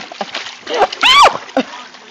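A dog splashes in backyard pool water, throwing out bursts of sloshing and splatter between quieter moments, with close vocal sounds mixed in.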